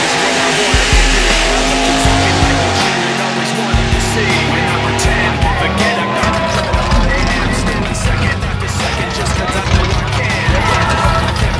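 A rental car driven hard squeals its tires in long skidding screeches over a rumbling engine, with voices talking and shouting over the noise throughout.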